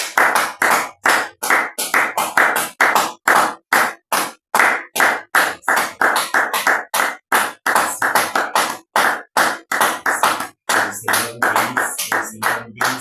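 A church congregation claps in praise of the Lord: loud, close, steady rhythmic handclaps for the whole stretch, with voices faintly rising beneath near the end.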